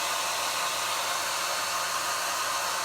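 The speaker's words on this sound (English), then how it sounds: "Even with my hairdryer," A hair dryer blows steadily on damp chalk paste, a constant, even hiss-like whoosh with no breaks, close and unaccompanied.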